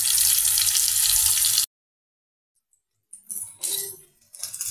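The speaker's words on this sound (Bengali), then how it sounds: "আর এদিকে বেগুন চপটা ভেজে নিচ্ছি" Eggplant chops (begun chop) frying in hot oil, a loud dense sizzle that cuts off abruptly, followed after a pause by scattered clinks and softer kitchen sounds.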